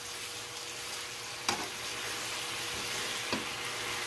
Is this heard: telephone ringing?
no